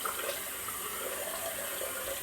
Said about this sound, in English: Do a cold water rinse here